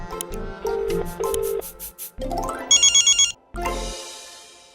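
A telephone rings through a speakerphone, with repeated ring bursts, a rising tone and electronic chirps, loud and close, with no voices during the ringing.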